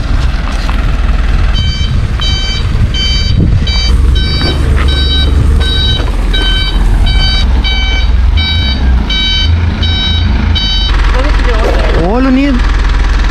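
A dump truck's diesel engine runs close and loud while a repeating electronic reversing beep sounds over it, ending with a short squeal near the end.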